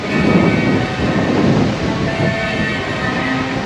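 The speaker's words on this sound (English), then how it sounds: "I can feel the wind. I don't know if you can hear it." Strong wind ahead of an approaching storm roars and buffets steadily at close range, a dense rushing wash with slight surges and no speech.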